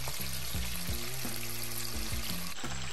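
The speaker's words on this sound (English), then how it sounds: "chicken is gonna go in the hot oil" Chicken wings frying in hot oil at about 350 degrees, a dense steady hiss and bubbling sizzle that holds loud and close throughout, with music or a low tonal hum running underneath.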